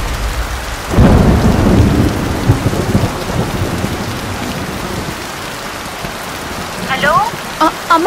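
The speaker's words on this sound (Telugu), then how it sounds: "ఇక్కడ బాగా వర్షం పడుతుంది" Heavy rain with thunder: a loud, close thunder rumble breaks in about a second in, then a steady downpour hisses on, with a few sharp chirps near the end.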